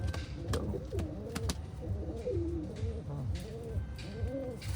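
Pigeons in a loft coo in repeated soft, rolling calls at close range, with a few sharp clatters of movement in between and no talk.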